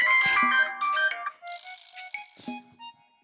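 A mobile phone ringtone plays nearby, a bright melodic electronic tune with a few short repeated phrases and gaps, fairly quiet and alone.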